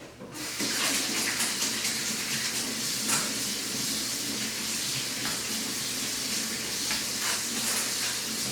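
Running tap water rinsing sticky bread dough off hands at a kitchen sink, a steady close hiss of flowing water with faint splashes and rubbing, alone without talk.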